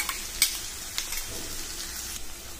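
Chopped onion and a blended ground paste fry in a pan for a soya chunk gravy curry, a close steady sizzle broken by a few sharp scrapes and clinks of a stirring spoon.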